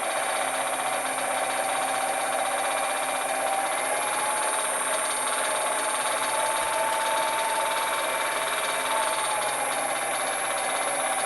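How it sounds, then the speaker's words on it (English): A crankshaft inertia-force test rig runs steadily at 1000 RPM, producing a constant whirring drone with a grinding, rasping edge and a sustained tonal hum, loud and unchanging throughout. "So running 1000 RPM right now."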